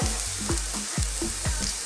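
Garlic sizzles in hot oil in a pan for Filipino chicken lumpia filling, a dense crackling fry with repeated stirring scrapes at a quick, even rhythm, close and alone.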